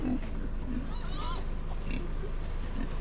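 Pigs grunt and oink nearby over a noisy, rumbling background, with occasional higher squeals mixed in.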